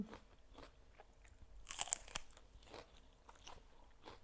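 Grilled meatballs eaten with Thai boat noodle sauce give close, crisp crunching and chewing bites, quiet and intermittent, with a louder cluster of crunches in the middle and no talking.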